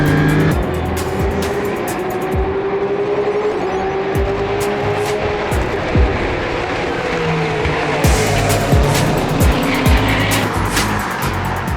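Race cars on track at Watkins Glen roar loudly and continuously, with engines rising and falling through gear changes, tire squeal and cars sweeping past.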